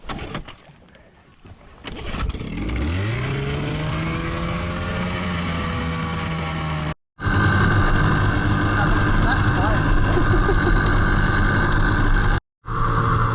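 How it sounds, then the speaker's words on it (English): A boat engine starts up and settles into a steady, loud idle beside the water, running continuously with two brief cutouts; it sits close to the listener. "It's my engine, mate."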